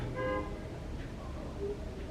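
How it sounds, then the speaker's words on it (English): A car horn toots briefly through steady traffic rumble, followed by a second shorter honk, both faint and distant. "They're already honking at each other."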